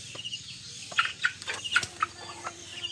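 Rhode Island Red chickens cluck in a short irregular series of sharp calls nearby in a bamboo coop, with softer background clucks.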